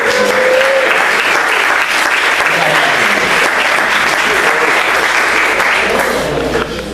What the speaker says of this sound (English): Give a quick round of applause for Elliot for setting this whole thing up.